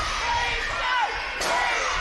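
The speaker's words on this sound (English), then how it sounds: "As the crowd throws support behind him." Wrestling crowd at a hardcore Halloween show roaring in support of a fighter, a dense, loud sustained cheer with shouts rising near the end, no commentary over it.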